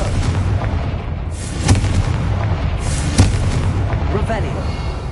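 Confringo fire spell explosions in the Hogwarts Legacy video game, booming blasts over a dense roaring rumble, with two sharper impacts standing out over the continuous loud noise.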